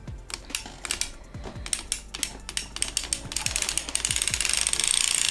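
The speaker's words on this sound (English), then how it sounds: "So we're going to crank forward." Hand-cranked 60-stitch circular sock knitting machine, a close, steady stream of rapid clicking and ratcheting that quickens and thickens toward the end, with no talking.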